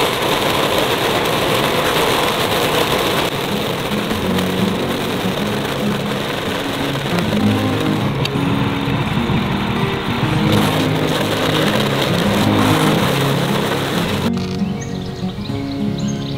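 A Power King stump grinder works a stump with a continuous loud engine drone and grinding that shifts in pitch over time. Faint bird calls sit in the background, and the grinding cuts off near the end.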